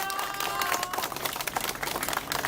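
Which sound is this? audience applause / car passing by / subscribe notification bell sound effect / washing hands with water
audience applause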